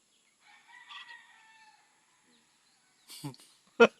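A binabay, a hen-feathered rooster, gives one drawn-out crow that rises and fades, heard clearly against a quiet background. A few short spoken words follow right after.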